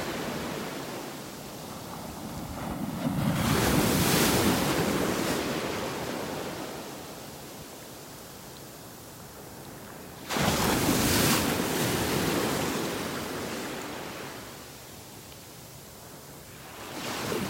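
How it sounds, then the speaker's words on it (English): Ocean waves breaking on a beach in North Naples, Florida: two big rushing surges of surf roll in and wash back, with a steady windy hiss between them. "Listen to those waves."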